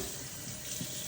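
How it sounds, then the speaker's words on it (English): Tap water runs steadily into a container being filled for canning carrots, a continuous close splashing rush that holds even for the whole short stretch with no voices. "And we're going to put some water in it."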